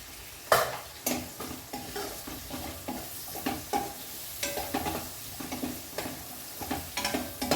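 Garlic crackles and sizzles in hot tempering oil in a pan on the stove, with a steady fizz broken by repeated scraping stirs and small clinks of a spoon at close range.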